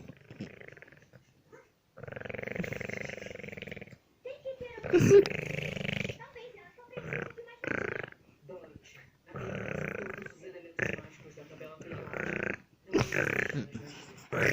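A girl imitates her father's snoring with a voice, making repeated rough snore-like bursts in an irregular rhythm, close and fairly loud, mixed with other people talking and laughing.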